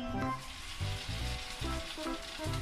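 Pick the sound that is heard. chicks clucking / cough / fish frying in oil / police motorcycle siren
fish frying in oil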